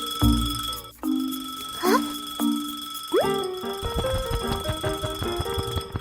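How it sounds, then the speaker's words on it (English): A cartoon alarm clock rings loudly and insistently in bursts, followed by bouncy, boinging musical sound effects, with no talking. "Suddenly, the clock starts ringing loudly."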